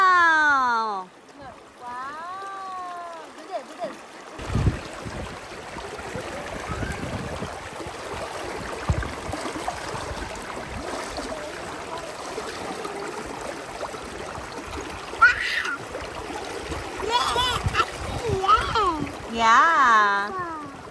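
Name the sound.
waterfall and splashing water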